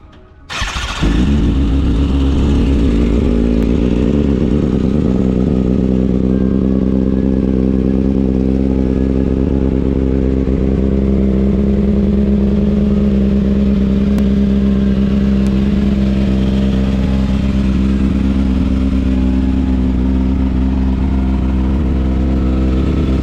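Cold start of a 2009 Kawasaki ZX6R motorcycle engine: a quick crank catches, then a loud, steady high idle drones on close up without pause.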